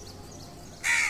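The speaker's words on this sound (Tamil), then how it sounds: "என்கிட்ட வர காக்கா எது?" One loud, harsh crow caw rings out near the end, after a stretch of quiet outdoor background.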